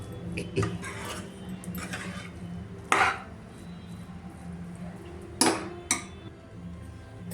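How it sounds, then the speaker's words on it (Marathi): Wada pav potato filling being mixed in a pan with a metal spoon, soft scraping punctuated by a few sharp clinks of metal on metal, close and alone. "आता आपण याला व्यवस्थित मिक्सअप करून घेऊया"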